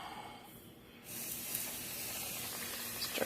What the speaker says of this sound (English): We have double dipped our chicken and we are going to start the process of frying it